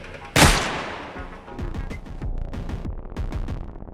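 Gunfire in Darktide: one loud sharp blast opens, then a run of repeated shots rings out at an uneven rhythm, close and punchy, with no talk over it.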